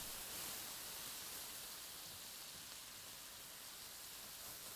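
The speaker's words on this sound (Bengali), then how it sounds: "কপিগুলো ভেজে নিচ্ছি" Cauliflower pieces frying in hot oil, giving a soft, even, continuous hiss that stays faint and steady throughout, with no talk.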